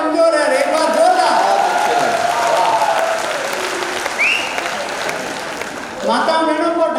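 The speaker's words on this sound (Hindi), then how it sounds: "थोड़ी आपकी तालियां कमजोर है" Audience clapping at a Hindi poetry event, a broad wash of applause under a voice that speaks over it, fading somewhat before another voice comes in at the end.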